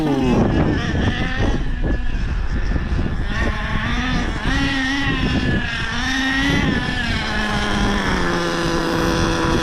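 An HPI Savage X nitro RC truck with a 3-speed gearbox runs its small engine close by, a loud raspy whine that rises and falls with throttle blips as the motor warms.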